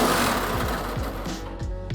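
A power drill runs steadily at close range, its motor whine wavering as it bites into a Sprinter van's metal body panel, with faint background noise.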